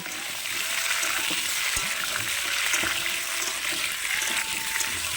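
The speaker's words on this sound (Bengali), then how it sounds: "প্রথমে আমি পেঁপে আর আলুটা একটু ভালো করে লাল লাল করে ভেজে নেব।" Papaya and potato pieces fry in hot oil in a wok over a clay stove, giving a loud, steady crackling hiss with a few sharper pops and no speech.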